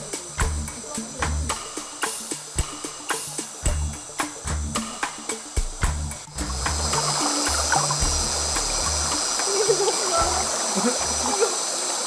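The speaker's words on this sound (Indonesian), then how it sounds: "Kami memutuskan untuk menyeberangi sungai, mengejar kawanan anjing yang terus memburu binatang target." A river crossing in Indonesia while chasing a pack of hunting dogs, with water splashing in rhythmic steps through the current, then a steady rushing flow of the river, loud and close.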